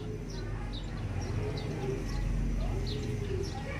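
Racing pigeons at a home loft, soft repeated coos and brief chirps scattered over a steady outdoor hum, fairly faint, with someone talking.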